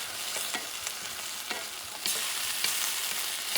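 Puerto Rican sofrito, preserved for over two years, hisses in a hot pan as it is stirred for arroz con carne molida. The sizzle is steady and continuous, with a few soft scrapes and a louder surge near the end.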